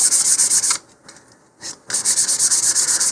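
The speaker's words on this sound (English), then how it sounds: "giving it a light sanding does help the paint stick better" A model rocket nose cone on an Estes Hi-Flier XL kit gets a light hand sanding: close, rasping strokes in a steady rhythm, broken by a short pause partway through, with no talking.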